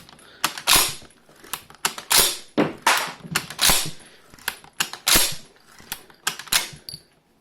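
A Swedish AG-42B Ljungman rifle's action being worked by hand, a series of sharp metallic clacks and snaps in irregular bursts, the bolt cover pushed and pulled back repeatedly, close and loud, no voices.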